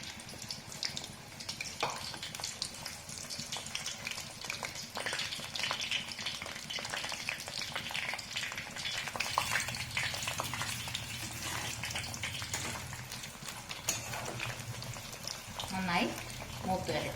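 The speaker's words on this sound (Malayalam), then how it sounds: "കുറച്ചായിട്ട് നമുക്ക് വറുത്തെടുക്കാം." Breadfruit chips fry in hot oil with a steady, dense sizzle and crackle that runs throughout, broken by occasional scraping and stirring noises close by.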